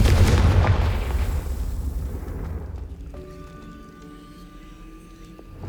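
A Confringo blasting spell in Hogwarts Legacy erupts as a loud, close explosion that rumbles and fades over a few seconds, followed by a thin, sustained magical shimmer.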